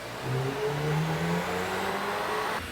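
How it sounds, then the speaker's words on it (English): A Volkswagen Golf R Mk8 engine with an aftermarket exhaust revs hard and steadily under load on a dyno, its pitch climbing then holding, a sustained mechanical roar with no talking. "All right, Charles, what do you think of that dyno run?"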